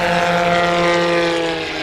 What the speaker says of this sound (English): Eddie Sanchez, full throttle, loud.